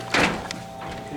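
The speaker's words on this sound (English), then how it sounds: "It's a heavy door." A heavy door in the Luna County Courthouse closes with a single solid thunk early on, followed by a fainter knock and quiet room noise.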